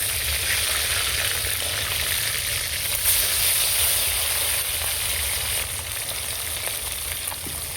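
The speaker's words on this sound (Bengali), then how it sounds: "এক পিস ভাজা হয়ে গেছে আমি উল্টে দেব" A continuous close sizzle of katla fish pieces frying in oil, even and dense throughout, easing slightly toward the end.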